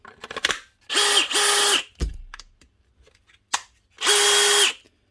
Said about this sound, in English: Finally, the new chuck.